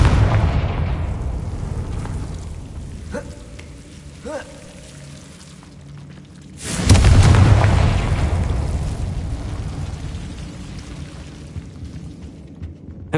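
A Confringo fire spell in Hogwarts Legacy erupts in a loud, deep booming explosion that rumbles and slowly fades, preceded by quieter magical chimes and ambient game sounds.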